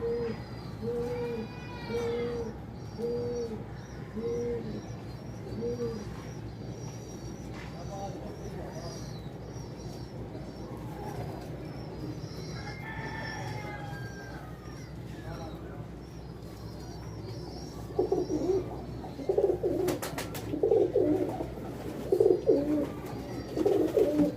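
Old-breed Sialkoti pigeons coo in a steady run of low, throaty calls, then softer cooing carries on beneath a muffled bustle and brief louder rustling near the end.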